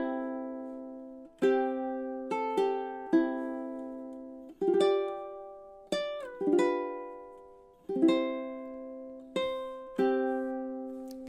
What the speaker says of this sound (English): So the 4 bars of playing this with a high G ukulele sounds something like this.